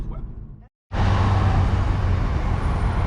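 Heavy road traffic heard from inside a vehicle that is stuck in it: a loud, steady roar of engines and tyres that cuts in after a brief silence and then holds close and constant.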